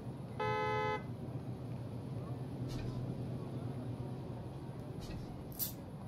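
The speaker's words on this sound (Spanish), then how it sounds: "¿Quién tocó bocina?" A car horn in the video game Parking Tycoon gives a single short toot early on, clear above a steady hum of background game noise, with faint clicks following.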